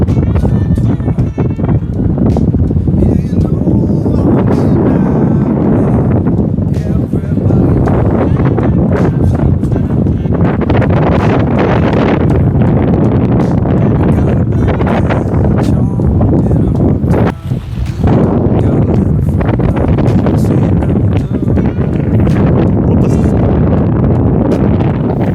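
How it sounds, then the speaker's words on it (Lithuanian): Strong seaside wind buffets the microphone on the Lithuanian coast near a boat mooring, a loud continuous roar with a brief dip near the end. "Bangas tai kai jūroj, vėjas irgi."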